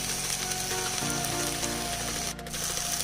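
Chicken sausage with capsicum frying in a pan with Szechuan chutney, honey and chili oregano sauce, giving a dense, steady close sizzle and crackle that runs continuously with a brief dip near the end, no voices.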